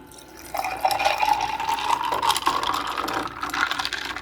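Liquid poured steadily into a cooking dish while preparing a home recipe, a continuous close filling sound with a slowly rising tone lasting several seconds, no talk.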